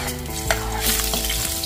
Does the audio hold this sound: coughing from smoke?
no